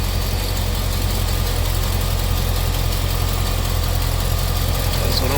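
A Cadillac engine with a carburetor idles close by in a shop, a steady low rumble with a faint rhythmic knock that runs unchanged and fairly loud throughout.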